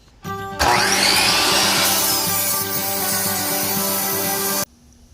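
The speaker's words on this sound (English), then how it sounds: "I'm about to use a miter saw to make my cuts" A miter saw starts with a short whir, then bites through scrap wood in a loud, steady, high-pitched cutting whine for about four seconds before stopping abruptly.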